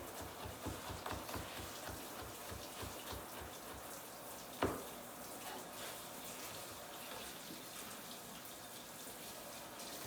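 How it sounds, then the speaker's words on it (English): Prickly pear cactus pads get a final rinse under running water, a steady faint splashing stream with one brief sharp knock partway through. "just do a final rinse with water to get off any skin and any seeds"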